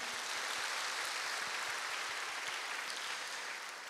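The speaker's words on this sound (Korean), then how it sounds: "동산의 가족이 되신 분들에게 마음을 담아 박수로 환영하겠습니다." A church congregation applauds to welcome new members at a Sunday morning service, a sustained dense wash of many hands clapping, steady and even, tapering slightly at the end.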